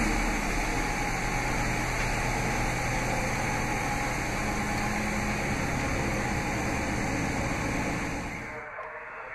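A 2016 Dodge Charger RT Plus Blacktop runs after a remote start from the key fob, giving a steady, close, low idle rumble that holds evenly for about nine seconds before dropping away.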